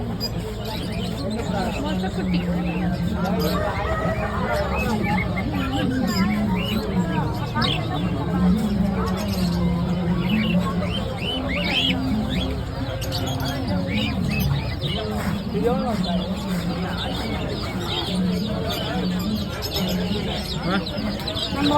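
A busy crowd at a Friday market in Pallavaram talks over a dense bed of pigeon coos and bird chirps, steady and close throughout.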